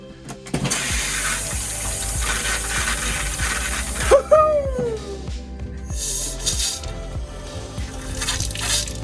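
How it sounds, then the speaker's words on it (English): Hot water runs from the tap into a small sink in a converted bus tiny home with newly fitted plumbing: a steady close rushing stream starts abruptly, with a brief squeal partway through. "That is some hot water in the sink"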